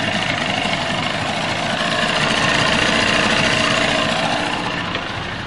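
A 35 hp Johnson Evinrude outboard boat motor runs steadily at a close, loud idle, its buzzing drone holding an even level throughout with no one speaking.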